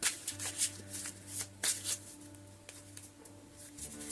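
Tarot cards are shuffled close by in a quiet room: soft riffling and flicking bursts repeat irregularly, with faint slaps as the deck is squared.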